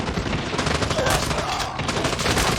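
Shotgun fire in Call of Duty, loud dense bursts of gunfire crowding together over continuous game noise, with a voice faintly present underneath.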